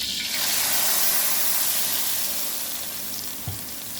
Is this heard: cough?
no